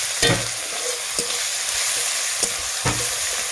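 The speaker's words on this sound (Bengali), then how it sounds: "রসুনটাও আমি এখন একটু ভালোভাবে নাড়াচাড়া করে নেব।" Garlic paste and onions frying in a pan for a poultry curry, a loud continuous sizzle with several scraping strokes of a spoon stirring close by.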